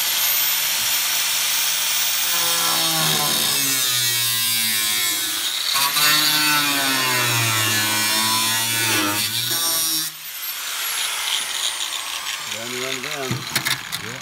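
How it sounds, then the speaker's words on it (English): An angle grinder cuts into a rusty car suspension part with a loud, continuous high whine and hiss whose pitch rises and falls as the disc bites, close up, then drops off near the end as it stops. "get that grinder out here and cut with"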